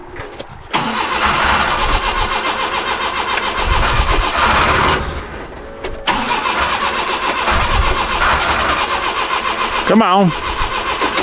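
An engine on a winter rig called The Beast, with an adjusted choke, cranks and tries to start in freezing cold, grinding steadily for several seconds, pausing, then cranking again loudly, with a brief spoken remark over it.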